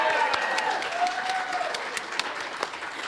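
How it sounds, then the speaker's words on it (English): An audience at a candidates' forum applauds in a steady round of clapping, with a voice talking faintly over it near the start. "Can I give them a round of applause?"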